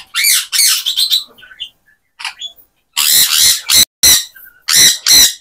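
Birds squawk loudly on a farm in harsh, repeated bursts with short pauses between calls, close by and without talk.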